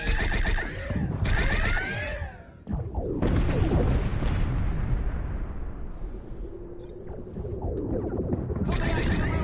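A Star Trek starship, the Kobayashi Maru, blows up: a loud, rumbling broadband blast fills most of the clip, decaying slowly after an abrupt onset, preceded by brief warbling tonal calls.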